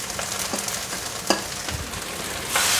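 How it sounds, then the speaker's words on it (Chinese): Noodles with celery stir-fried fast in a wok, a steady close sizzle with scraping stirs and a few sharp clanks of the spatula against the pan. "快速翻炒。"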